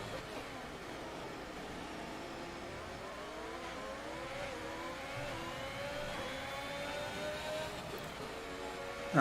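A McLaren race car in a racing video game at the Monaco Grand Prix, its engine whining and rising in pitch as it accelerates through the gears, steady and mid-distance, ending in a sudden loud burst.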